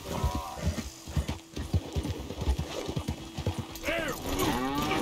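Horse hooves clip-clop steadily in a Red Dead Redemption 2 game scene, close and fairly loud, with whinnying calls rising near the end.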